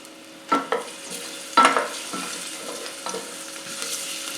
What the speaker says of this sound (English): Just a slight sizzle